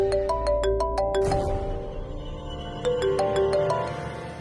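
A mobile phone ringtone rings indoors in a Tamil TV serial scene, playing a bright repeating melodic pattern twice with a short pause between, loud and clear with no one talking.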